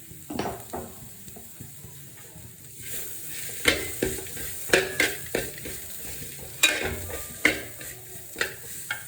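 Grated coconut, dried prawns and dried red chili roasting in a pan with a little oil, heard as a soft dry sizzle broken by sharp, rhythmic scrapes and knocks of a spoon against the metal.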